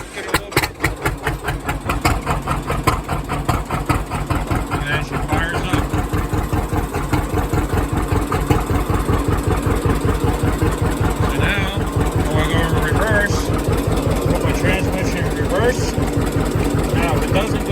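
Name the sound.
engine started with foot starter switch, then idling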